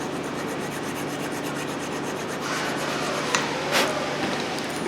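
A brake caliper file scrapes big rust chunks off rear brake parts on a GMC Terrain, a steady rasping rub repeated in quick strokes, close and continuous with a couple of sharper scrapes near the end.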